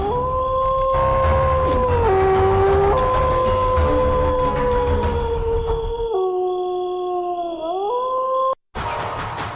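A mimicry artist's voice imitates a dog's howl, long wavering tones rising and falling with sliding pitch, loud and close throughout, cutting off briefly near the end.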